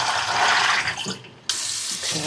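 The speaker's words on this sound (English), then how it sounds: "I'm just giving this a rinse with cold water" Cold tap water rinsing soaked sprouting peas in a bowl or sieve, a steady close hiss of running water that briefly dips and quiets before the flow surges back strongly.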